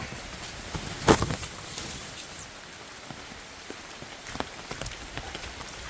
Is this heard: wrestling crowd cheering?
no